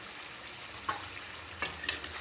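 Four large chopped onions go into mutton frying over a high gas flame, with a soft steady sizzle broken by a few quick scraping stirs of a spatula against the pot.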